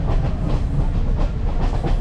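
A passenger train rolls along the Kandy-Ella railway in Sri Lanka, heard from inside a carriage as a loud, steady rumble with rhythmic clickety-clack of wheels on the rails.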